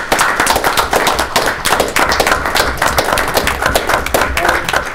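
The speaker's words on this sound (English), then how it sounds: "Give yourselves a round of applause" Clapping from an audience gathered at a community schools board of education meeting, sustained, dense and fairly close, with scattered sharper claps across the whole stretch.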